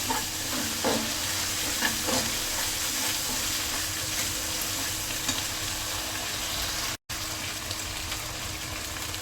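Ginger-garlic paste frying with chicken in a pan for a wedding-style chicken roast, a dense continuous sizzle with occasional stirring knocks, close and steady, broken by a brief cut near the end.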